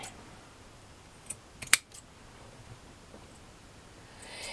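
Scissors snip through ribbon for a bow kit, a couple of brief, crisp cuts near the middle against a quiet room background, with no talking.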